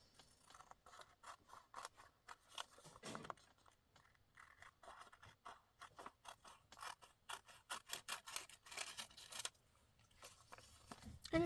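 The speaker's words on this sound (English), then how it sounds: "And then just taking my scissors" Close, quiet snips and rasping cuts of scissors trimming a paper photo, in irregular bursts of short repeated strokes.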